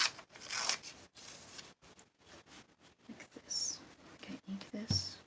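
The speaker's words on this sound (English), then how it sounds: "cut this end off" Scissors snip along the edge of paper for a junk journal, with soft close cuts and rustling paper at a low level, while a faint voice murmurs now and then.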